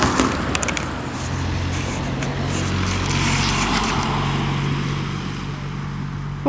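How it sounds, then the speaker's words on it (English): A car drives past outdoors after rain, its tyre and engine noise swelling to a broad rush midway before easing off, over a low steady hum and ambient background. "Oh, there's another car."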